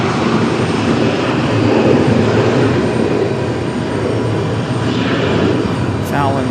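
A Frontier Airlines jet departs Raleigh-Durham International, its engines a loud, continuous roar that dominates throughout, with voices mixed in.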